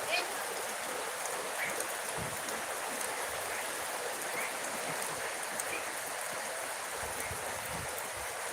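Steady rain falls with a constant hiss and patter, close and even, with faint scattered sounds underneath.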